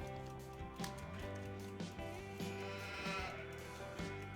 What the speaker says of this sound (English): Alright, it's sheep.